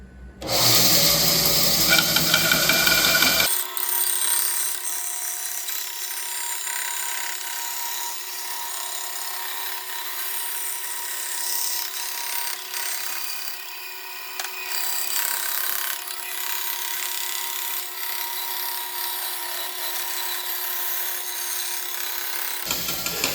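A power saw cuts out a wooden part for a sturdy shop stool, a loud steady whine with a constant pitch that runs on for over twenty seconds before stopping, close up and without speech.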